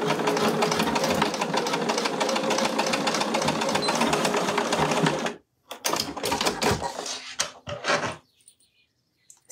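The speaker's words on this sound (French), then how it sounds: "Et je fais ma petite couture de maintien ici." A sewing machine runs a holding seam on a lining pocket for a zippered pouch, a fast loud continuous stitching rattle that stops abruptly, then short bursts and a few clicks before quiet.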